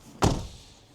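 A Ford F-150 pickup door shuts with a single solid thunk, close and sharp, then a short fading ring in otherwise quiet surroundings.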